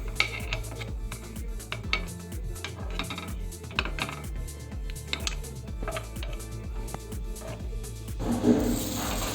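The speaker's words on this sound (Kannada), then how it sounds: "ಮತ್ತೆ ಪಡ್ಡು ಪ್ಯಾನ್ಗೆ ತುಪ್ಪ ಹಾಕ್ಕೊಳ್ತಾ ಇದ್ದೀನಿ" Metal spoon clinking and scraping against a paddu pan while ghee is added, close repeated taps and rattles with light rubbing, a short noisy rustle near the end, no talking.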